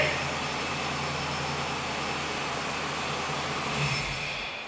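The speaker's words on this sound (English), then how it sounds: "I didn't know you had it fired up with full exhaust on it yet" A rebuilt car engine with a 5-speed transmission idles steadily through its full exhaust, a continuous low drone and rumble that carries at moderate level with a faint voice briefly in the background.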